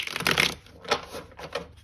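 A deck of tarot cards being shuffled by hand during a reading, a loud crisp riffle at first followed by softer rustles and taps of the cards, close and alone.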